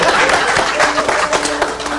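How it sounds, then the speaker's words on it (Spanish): A studio audience at a reality TV show applauding, a short burst of dense clapping from many hands, fairly loud and close. "primero pedirle un aplauso"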